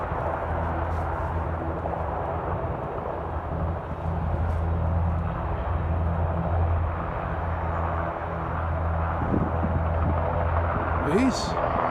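A helicopter flies overhead as a steady low rumbling drone that holds throughout, rising slightly in places, with a few voices faintly under it.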